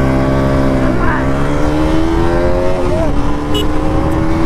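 Heavy road traffic on a night ride, with car engines rumbling and revving close by and a horn-like tone sliding up and down, steady and loud throughout.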